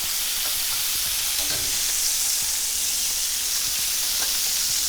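Pork chops fry in a pan, giving a steady loud sizzle and hiss throughout with faint occasional clinks, close and without talking.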